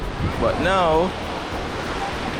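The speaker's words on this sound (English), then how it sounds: "It's very windy." Strong wind buffets the microphone at a Montego Bay beach in Jamaica, a constant loud rushing roar mixed with surf, with a person talking briefly over it.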